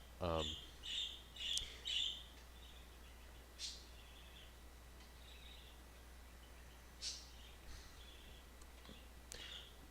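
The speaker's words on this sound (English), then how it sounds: "You guys can definitely hear those birds" Outdoor birds chirp faintly, with a quick run of four bright calls at the start and then scattered single chirps spaced out over a quiet, low-level background.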